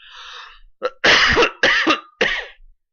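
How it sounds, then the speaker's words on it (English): A close, harsh run of three or four coughs, preceded by a short breath, with silence in between. "Excuse me there as I cough."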